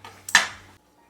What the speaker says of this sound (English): And then I'm gonna plate this up real quick.